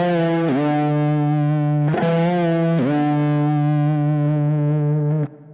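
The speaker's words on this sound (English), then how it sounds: "he kind of hangs on it and does a little kind of half bend up and down. Then slides down to the D and at the same time hits the whammy bar" Distorted electric guitar in a solo style, holding a sustained note with a slight half bend up and down, then sliding down to D while the whammy bar dips the pitch; loud, alone, ending abruptly.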